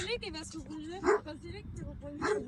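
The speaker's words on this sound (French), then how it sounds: "Ça, c'est les chiens du boss." Farm dogs bark and yip close by in a couple of sharp bursts, with whimpering tones between, while a person talks over them.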